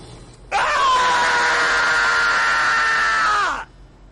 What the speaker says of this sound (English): Surprise scream at the end there.